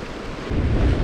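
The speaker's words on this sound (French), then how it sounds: "Carrément trop de vent là, j'arrive pas à l'animer" Strong seaside wind roars against the microphone at a fishing spot, a constant rushing noise that swells louder halfway through, with no talking.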